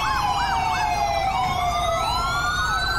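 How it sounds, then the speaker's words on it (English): Police and ambulance sirens in a GTA 5 roleplay scene wail together, overlapping rising-and-falling tones and fast yelps sounding loud and continuous over a low traffic rumble. "God, there's so many sirens."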